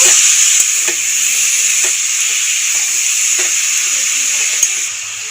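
Grated kohlrabi and spiced potatoes sizzle steadily in a frying pan, a bright continuous hiss with a few soft scrapes and taps as the mixture is stirred, close and fairly loud.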